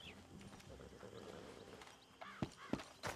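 Horses in the Red Dead Redemption 2 video game shift and step with soft clip-clop hooves under a steady game ambience, followed by a few louder, sharper thuds near the end.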